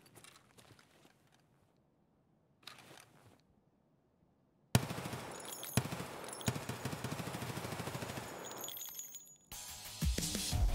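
Gunfire in the video game Escape from Tarkov: after a few quiet seconds, a dense burst of rapid shots and clinking rings out for about five seconds, then stops briefly before more loud firing resumes.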